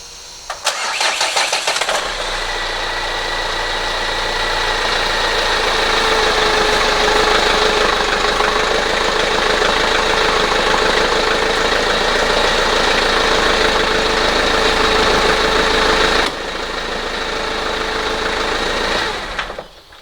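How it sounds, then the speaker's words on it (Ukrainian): A Renault Master van engine cranks and starts, then idles steadily with a loud, continuous rumble and vibration, close by with no talk, easing off briefly near the end. "зараз спробую завести мотора"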